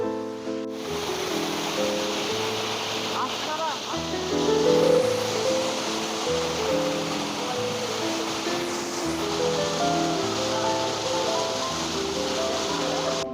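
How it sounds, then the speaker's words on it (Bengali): The Seven Sister Waterfalls in North Sikkim roar in a steady, dense wash of falling water, while music plays continuously over the top. "এটা হলো সেভেন সিস্টার ওয়াটার ফলস কত উঁচু থেকে জলটা পড়ছে"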